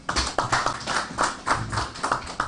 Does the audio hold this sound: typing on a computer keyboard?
no